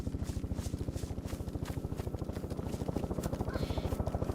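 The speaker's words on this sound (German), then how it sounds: "Heli kommt zurück." A helicopter in the video game DayZ thumps with fast, even rotor beats, loud and steady, with voices talking faintly underneath.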